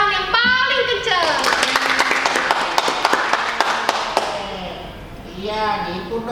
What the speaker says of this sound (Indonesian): yuk kita kasih tepuk tangan yang paling kencang